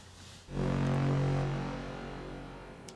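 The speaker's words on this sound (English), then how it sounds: "horn patches that are from Logic that just sound like this all together" Layered Logic synth horn patches enter together as one thick, brassy chord that swells in quickly, then slowly fades.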